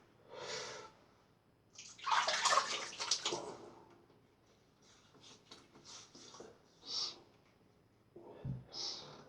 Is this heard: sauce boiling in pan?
no